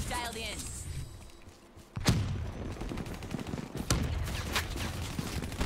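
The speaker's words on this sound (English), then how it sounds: "I just got sniped." Gunfire in a Call of Duty match: sharp cracks and thuds rise out of a busy game soundscape, with a heavy shot near the middle and another later, over a steady rumble of battle noise.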